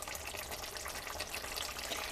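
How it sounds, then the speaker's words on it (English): Water poured into a simmering pot of goulash with noodles, a steady broadband splashing rush that stays even and fairly soft for a couple of seconds with no talking. "We might need to add a little bit more water."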